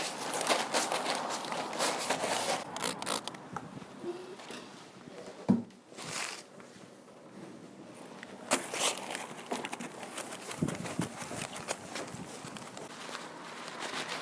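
Steady papery rubbing and crinkling as newspaper is wiped across sprayed window glass, close up, continuous with a few louder scuffs and thumps.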